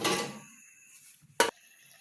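A metal lid clanks down onto a pot of simmering chicken with tomatoes with one sharp, brief clatter after a softer rustle, close by.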